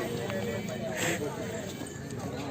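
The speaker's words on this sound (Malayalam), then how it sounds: "ഹോഴ്സ് റൈഡിങ് ആരാ റൈഡ് ചെയ്യാൻ പോന്നെ?" Horse hooves clip-clop during a horseback ride on a white horse at Venna Lake, Mahabaleshwar, faint, light and irregular beneath continuous voices talking nearby.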